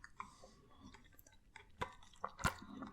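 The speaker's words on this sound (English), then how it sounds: "this is the gum I'm currently chewing" Extra gum, the UK chiclet-style pieces, being chewed close up with soft wet squishes and a few sharper crunchy bites, quiet overall, with no talking.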